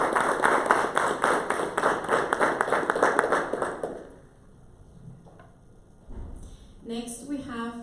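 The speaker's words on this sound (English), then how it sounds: "Let's give a warm round of applause to Dr." An audience at a STEM forum panel applauding a speaker, dense clapping for about four seconds that fades out, followed by a quiet gap and then a voice starting to talk.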